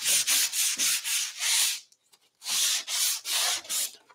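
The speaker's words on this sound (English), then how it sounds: "Do you have the sandpaper? I could distress this and wax it." Sandpaper is rubbed back and forth across a wooden clock to distress its finish, giving quick, rhythmic scratchy strokes, a brief pause, then another run of strokes close up.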